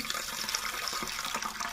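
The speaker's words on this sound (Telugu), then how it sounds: "కడుక్కోవడానికి చిన్న బౌల్ తీసుకొని ఆ బౌల్లోకి వాటర్ ఇచ్చుకొని" Tap water runs and splashes steadily into a small bowl holding moong dal for washing, a close continuous gush with no talking.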